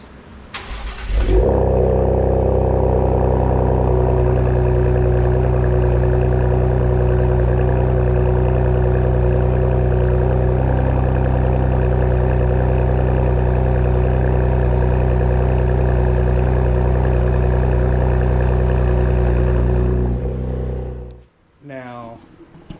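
A 2022 Ford Explorer ST engine and exhaust run loud and close, holding a deep, steady, powerful drone for about twenty seconds before cutting off abruptly.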